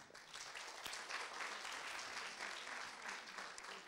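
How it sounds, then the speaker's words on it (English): Audience applause at an engineering symposium, a dense, even wash of clapping from a crowd heard at a distance, steady and fairly faint for the whole stretch. "Please clap."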